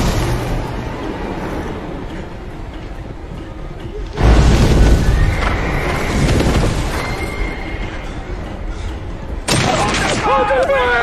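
A musket volley from a samurai-era battle scene filmed on a backlot erupts in a loud sustained roar of gunfire, with a second burst later, mixed with shouting voices and a horse whinnying.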